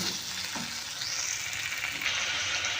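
Fried idli with tomato sauce sautéing in a pan, a steady close sizzle and crackle of hot oil running throughout with faint stirring scrapes.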